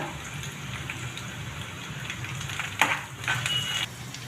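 Ginger garlic paste with curry leaves, turmeric and asafoetida fries in hot oil for a leafy vegetable curry, a steady close sizzle with a brief clatter of stirring partway through; no one talks.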